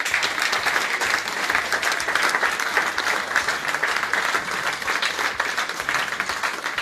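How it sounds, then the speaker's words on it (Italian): Sustained, energetic audience applause at an outdoor festival event, many hands clapping steadily and loudly for several seconds with a faint rhythmic low thump running underneath. "un grande applauso."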